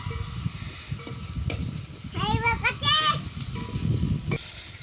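Masala paste, tomato and drumstick curry sizzling and being stirred in a pan over a wood-fired stove, a steady close frying hiss with scraping, while a voice and other talk rise over it.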